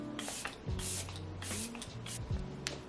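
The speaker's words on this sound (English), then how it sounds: "This is the Morphe Luminous Setting Spray." Several short hissing sprays of a Morphe Luminous Setting Spray mist bottle, a few quick bursts spaced about half a second apart, close by.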